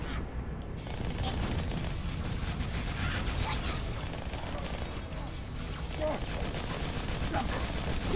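Steady in-game gunfire from Halo 2 rattles through a busy firefight, rapid bursts and mechanical clatter overlapping continuously at moderate loudness, with a voice briefly heard in the mix.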